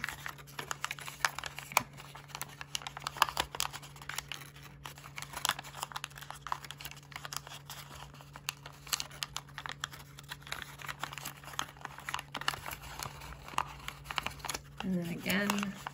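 Paper is folded and creased by hand for hyperbolic origami, giving soft, close crinkles and scattered crisp taps that come and go steadily, with quiet talk in places.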